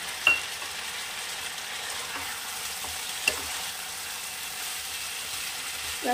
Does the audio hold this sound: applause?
no